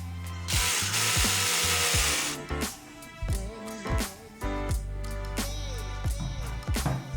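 Metric 3x8mm screws driven into 3D printed parts of a 1/10 scale BMW M4 G82 RC car, close repeated whirring bursts from a small powered driver with ratcheting clicks between them, no talking.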